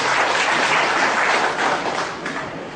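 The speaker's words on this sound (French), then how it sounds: "que je vous demande d'applaudir" An audience at a formal speech and ceremony applauds with thick, continuous clapping that stays loud and even, then eases off slightly toward the end.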